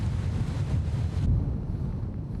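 Wind buffeting and the wash of waves at sea aboard a large patrol vessel nearing the coast as the storm eases, a steady low roar with no voices.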